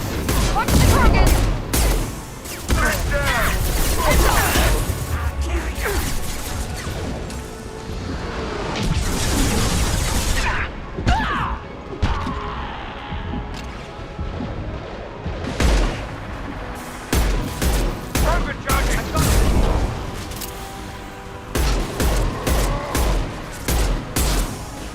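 Dense bursts of video game gunfire and booming explosions fill the scene, loud and nearly continuous with rapid volleys and heavy impacts, while voices talk over the action.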